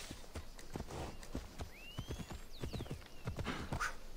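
A horse galloping in Assassin's Creed Odyssey, with rapid rhythmic hoofbeats pounding close and clear over a few seconds, plus a brief whinny-like cry partway through.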